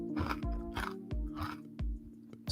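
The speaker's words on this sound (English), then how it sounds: "Sorry, I'm crunching away." Someone close to the mic crunches and chews food in a steady rhythm of sharp bites, while a low steady hum runs underneath.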